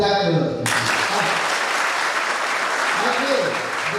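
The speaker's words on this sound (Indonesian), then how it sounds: "Ya, tepuk tangan dulu." A crowd at a church youth Easter camping event bursts into steady, full applause that lasts for several seconds, after a voice speaks briefly at the start.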